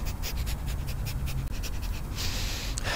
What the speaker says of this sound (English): This is called a breath of fire.